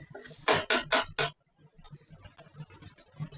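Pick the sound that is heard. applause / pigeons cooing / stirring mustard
stirring mustard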